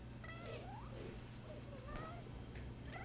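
A cat meows in the video game Nioh 2, a few faint, short rising and falling meows spaced over a steady low background hum.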